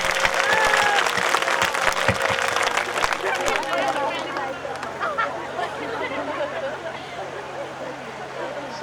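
Audience at a Bhojpuri religious discourse in Deoria, clapping loudly and densely at first, then fading into crowd murmur and chatter.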